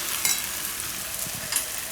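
Dahi mirchi rice, tempered rice with yogurt and chilies, being stirred in a hot pan, giving a steady close sizzle with soft scraping strokes and a few sharper clinks of the spoon, with no voices.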